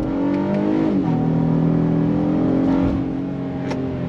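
A 2022 Honda Passport Trailsport SUV accelerating in manual shift mode, heard from inside as a loud, steady engine drone with rising and shifting tones and a brief dip around a gear change, no talking.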